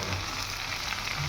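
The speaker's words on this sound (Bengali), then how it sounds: "এখানে ভালোভাবে এটা একটু বিনসটা নেড়ে চেড়ে নিয়ে এবার আমরা ক্যাপসিকাম আর লঙ্কা এতে অ্যাড করে দেবো।" Beans and vegetables stir-frying in a hot pan for restaurant-style chow mein produce a loud, dense, continuous sizzle with no talk over it.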